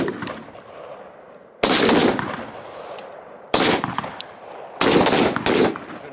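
Three loud gunshots fired at a night shooting range, each a sharp blast with a rolling echo tail, spaced roughly a second and a half apart, with no talk between them.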